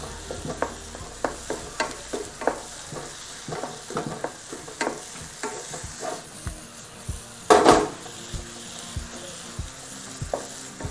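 Curry leaves sautéing in a pan for a Kerala beef kumbanadan, with a steady sizzle of frying broken by frequent scraping stirs and light clinks of a spoon against the pan; one louder scrape stands out near the end.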